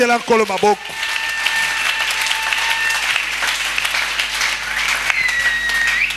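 A church congregation claps and applauds the Lord in a sustained, dense wash of hands that fills the room, with a brief sung or spoken voice at the very start before the clapping takes over.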